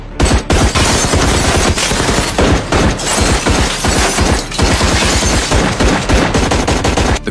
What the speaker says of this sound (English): All 4 agents opened fire together.